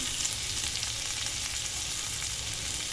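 Food fries in a pan with a steady, bright sizzle, close and continuous with no pauses and no voices.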